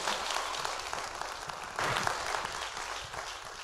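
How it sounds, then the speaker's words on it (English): A church audience claps along, with rhythmic hand claps swelling midway into a fuller burst before easing off, heard at a modest level with a few voices mixed in. "Clap your hands."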